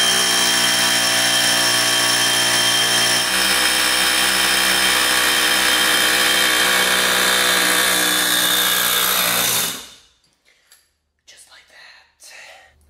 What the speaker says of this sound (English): they have hub pullers that bolt to each one of these and it presses it through.